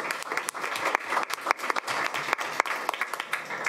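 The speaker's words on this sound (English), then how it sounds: "I think that deserves a round of applause." A room at a school board of education meeting fills with steady applause, a dense patter of many hands clapping at moderate loudness for several seconds.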